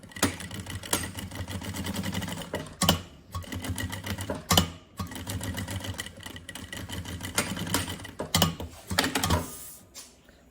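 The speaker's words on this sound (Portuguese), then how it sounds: "E fazemos agora uma costura pé de máquina." A sewing machine runs a seam on a bunny backpack, a steady rhythmic mechanical whir with clicking gears, broken by several brief pauses and sharp clacks as it stops and restarts.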